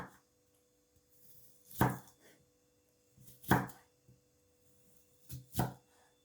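A knife chops through onion on a cutting board in a few spaced, sharp strokes, near and fairly quiet, with faint board scraping between cuts.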